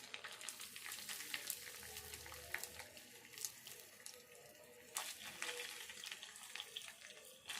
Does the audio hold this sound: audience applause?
no